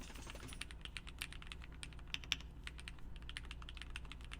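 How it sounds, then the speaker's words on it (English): A custom P4KCR3 mechanical keyboard being typed on gives rapid, uneven clacking keystrokes with a few sharper, louder hits, recorded close and fairly quiet, with no talking. "The good news is, I don't think I'm bottoming out as I type."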